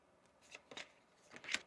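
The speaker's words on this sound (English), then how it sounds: "One more shuffle." Tarot cards being shuffled, with three or four brief riffling bursts spread across a quiet moment.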